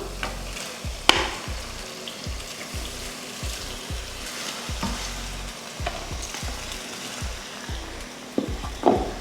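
Boiled pasta tossed into sauce in a pan over a low flame, with soft sizzling and a repeated rhythmic scraping of a spatula through the pan, plus a few louder knocks, close up and with no voices.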